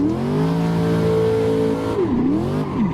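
A Corvette C6 drifting in the Assetto Corsa racing game: a loud, sustained engine drone holding steady pitch, then dipping and rising sharply as the car slides and recovers, close and alone.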